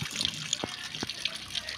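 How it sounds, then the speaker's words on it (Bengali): Water runs steadily from a roadside tap that flows all day without pressure, a constant trickling splash with a few brief louder knocks, heard up close. "এই কলে 24 ঘন্টায় পানি পড়ে,"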